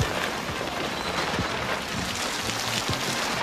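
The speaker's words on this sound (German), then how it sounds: "aufsteh, es regnet." Steady rainfall with a broad hiss and scattered drops tapping on a nearby surface, no voices.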